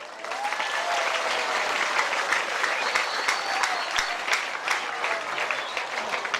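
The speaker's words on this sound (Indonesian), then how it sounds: "Tepuk tangan dulu nih." An audience at a spoken dharma talk breaks into applause, a dense, steady clapping that carries on loudly for several seconds without letting up.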